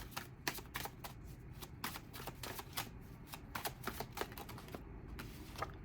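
Tarot cards are shuffled close by in quick, crisp riffling bursts, a rapid series of soft clicking flutters repeating over several seconds, faint and with no talking.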